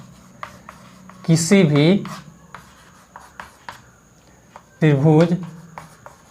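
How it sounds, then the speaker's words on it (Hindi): Chalk or marker writing on a board in a Hindi-language class 9 triangle angles lesson: short scratchy strokes in bursts, with a teacher speaking in between. "यहाँ पे लिख देते हैं"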